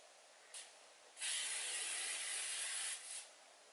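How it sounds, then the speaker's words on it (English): L'Oreal Infallible 3 Seconds Mist setting spray being sprayed: a short puff of fine hissing mist, then a longer continuous spray of about two seconds, and a final brief puff, soft and close. "I'm gonna set with a setting spray. I'm using the L'Oreal Infallible 3 Seconds Mist."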